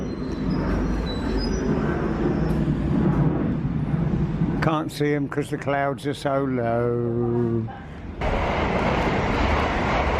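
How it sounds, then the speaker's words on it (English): Fast trains rush through a station, a passenger train among them, with a broad rumbling roar, a sustained tonal horn-like blare midway, then renewed rushing noise; someone talks briefly over it. "we've got a fast train each way and one of them's not a freight"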